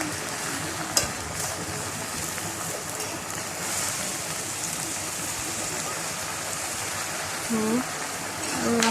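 Jute leaves frying in hot oil while being stirred and turned in a pan, a steady broadband sizzle with a sharp clank near the start and faint scraping later, no talk.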